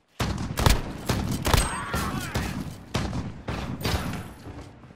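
A rapid, dense string of shotgun blasts and gunfire bursts in a Call of Duty: Modern Warfare 2v2 match, loud and overlapping with game effects, with no speech.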